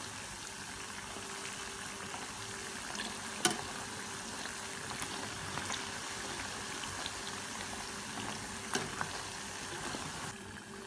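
Awameh dough balls fry in hot oil, giving a steady, fairly soft crackling hiss throughout with a few sharp clicks and pops as the balls are turned.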